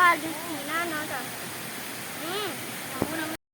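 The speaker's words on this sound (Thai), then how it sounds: "มา ถึงแล้วครับน้ำตกไส้สวรรค์" Sai Sawan waterfall in Ubon Ratchathani, Thailand, rushes steadily in the background as voices talk over it, with a sharp knock near the end before it abruptly cuts off.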